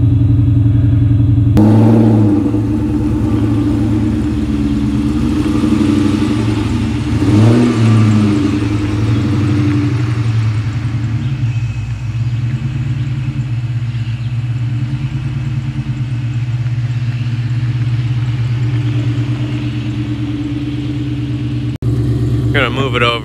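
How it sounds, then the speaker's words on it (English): Car engine idling while parked on dyno prep day, after a pulley and plug change, a loud steady low rumble with a brief rise in revs early on, then cut off near the end. "I could almost just let this thing idle off."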